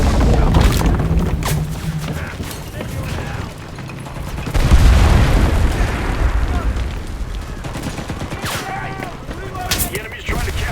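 Artillery strikes in the shooter game Enlisted, a barrage of heavy booms and bursts rolling over one another, loud and dense, with other battle noise mixed in.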